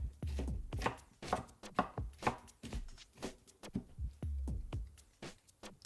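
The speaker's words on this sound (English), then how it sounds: "I'm going to get them nice and chopped up here." A knife chops Vidalia onion on a cutting board in quick, uneven strokes, loud and close, with no voices.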